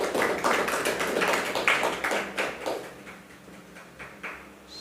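A crowd at a meditation gathering claps for several seconds, uneven overlapping hand claps that start fairly strong and thin out to scattered, fainter claps toward the end.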